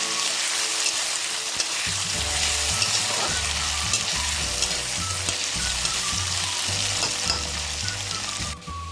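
Onions and small-chopped tomatoes frying in a pan for a paneer curry, with a loud, dense, steady sizzle and a low pulsing hum beneath, heard up close with no talk.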